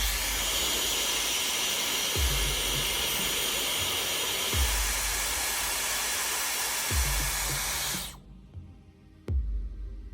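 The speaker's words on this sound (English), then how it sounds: "warm up the surface of the display with a regular hairdryer" A hair dryer warming an Apple Watch display blows with a loud, steady broadband whoosh for about eight seconds, then cuts off, leaving a few faint clicks and handling sounds.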